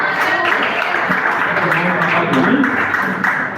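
Congregation clapping steadily during a church service, a dense continuous wash of applause with voices mixed in underneath throughout.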